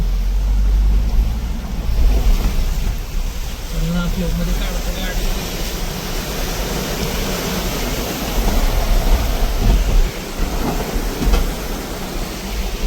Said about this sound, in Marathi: ब्रिजवरनं पाणी चाललंय पाठी.